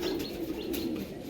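A black pigeon coos nearby in a short, low, throaty burst, with light rustling behind it.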